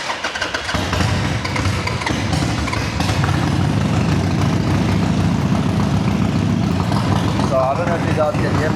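A 2010 Harley-Davidson XL1200 Sportster 1200cc V-twin with the choke pulled fires up under a few seconds and settles into a loud, continuous rumbling idle that fills the rest of the clip.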